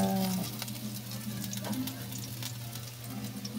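Spices and bitter gourd (ampalaya) sauté in a hot pan with a steady close sizzle and crackle, brief stirring scrapes over the top, no talk.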